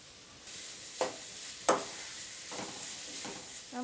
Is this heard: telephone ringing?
no